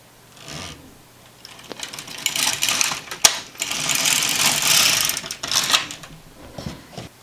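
An LK150 knitting machine carriage is pushed across a row, making a close, loud mechanical clatter and rattling swish that rises and falls as it travels, with a few sharp clicks.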